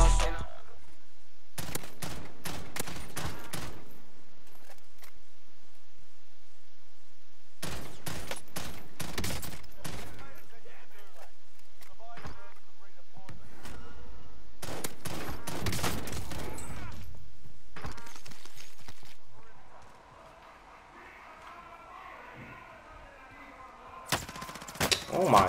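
Gunfire in Warzone: loud bursts of rapid automatic fire in several long volleys separated by short pauses, then a quieter stretch as the shooting dies away.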